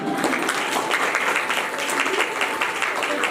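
Clapping from the audience at a Bhagavat Katha religious gathering, a loud, dense and steady burst of applause running throughout without pause, with faint voices mixed in.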